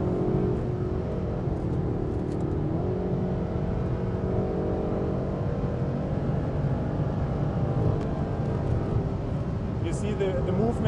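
Mercedes GT race car engine held at full throttle on the Nordschleife, a steady loud onboard drone running without a break, with voices talking over it.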